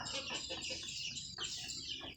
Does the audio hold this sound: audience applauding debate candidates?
no